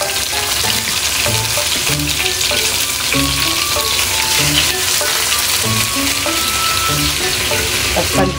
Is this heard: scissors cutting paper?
no